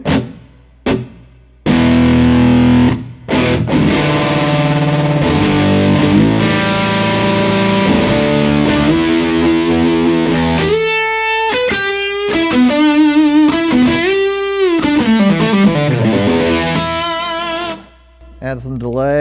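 Electric guitar on a pedalboard, run through modulation and reverb effects, strums loud washed chords and then bends sustained, wavering single notes. The playing is close and loud with brief pauses between phrases.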